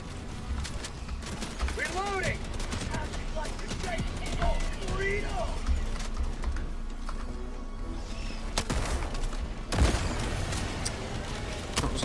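Rapid bursts of video game gunfire in Helldivers 2, sharp repeated shots scattered through the clip over constant background game noise, with several people talking throughout.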